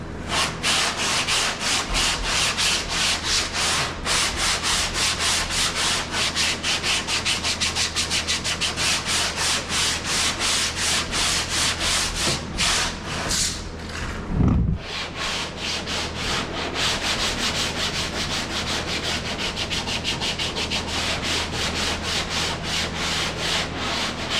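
A sanding block worked flat in crisscross strokes across a classic car's body panel during dent repair gives a steady, close, continuous dry rubbing with rhythmic stroke pulses and a brief thump midway; no one speaks.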